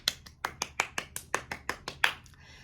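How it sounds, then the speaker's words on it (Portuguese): About a dozen crisp hand claps ring out at a steady, slightly uneven rhythm, fairly soft and close, then stop, with no talking over them. "Palmas, momento aqui"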